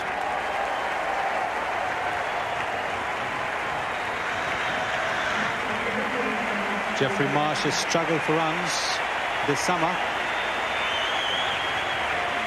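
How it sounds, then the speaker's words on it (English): A cricket crowd at the 1992 World Cup semi-final, Australia versus Pakistan, applauds a batsman's half-century with steady, broad clapping, heard under a commentator's voice and growing slightly louder toward the end. "And the crowd giving him a big hand for his half-century."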